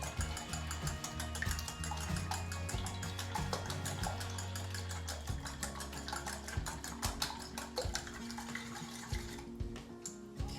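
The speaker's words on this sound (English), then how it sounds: "We're gonna just beat them up. Get them nice and broken up." Eight eggs beaten in a bowl for French toast casserole, a fast steady whisking patter of rapid rhythmic clicks continuing throughout, fairly close, over a low steady hum.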